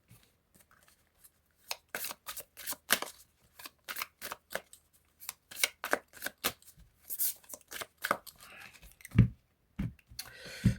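Cards from a Normand-style fortune-telling deck are shuffled, handled and drawn close up as a dense run of crisp flicks and snaps, with brief pauses and a few soft thumps.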